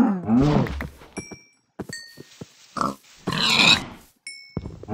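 Minecraft pigs in a Stalkercraft setting grunt and squeal in short bursts, interspersed with dull hitting thunks and brief chime-like game tones, close and fairly loud with gaps of silence.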